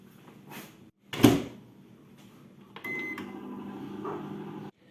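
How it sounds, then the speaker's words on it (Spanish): A microwave oven heating samples of chemical compounds: a door or latch clunk, a brief beep, then a low steady hum of the running oven for a couple of seconds. "vamos a meterlos en el microondas y observar cómo de calientes están"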